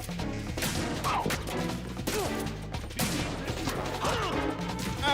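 Shotgun fire in Metal Gear Solid 2, several sharp blasts and crashing impacts at irregular intervals amid busy game sounds, fairly close and moderately loud.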